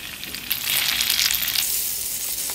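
Oil with shallots and garlic sizzles loudly in a pan for sambal udang, a bright close frying hiss that swells and holds steady, with no talking.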